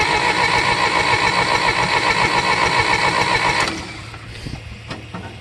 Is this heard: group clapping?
no